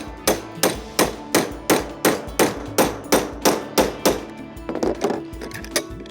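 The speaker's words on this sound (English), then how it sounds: "I'm going to take this cutter apart using this handy pin punch and a little ball peen hammer" A steady series of sharp metallic ball peen hammer blows on a pin punch, disassembling a tubing cutter, about two strikes per second, loud and close, with a quicker burst of taps at the end.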